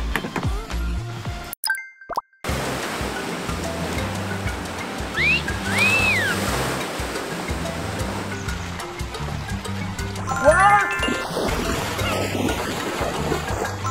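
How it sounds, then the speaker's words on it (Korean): At a water park wave pool, water churns and splashes loudly and continuously, with the surf building and rolling throughout. A brief dropout comes early, and distant voices and shouts sit in the mix. "오, 파도풀, 파도풀."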